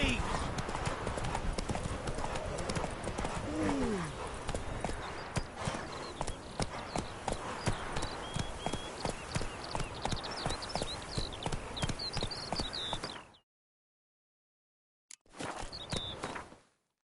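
Geralt's horse Roach gallops in The Witcher 3, with rapid, loud, steady hoofbeats running for about thirteen seconds before a sudden cut to silence and a brief return of hooves near the end.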